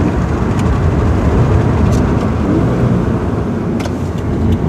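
Subaru car engine revving hard up through the gears, a loud, steady, close-up rumble filling the cabin with no talk over it.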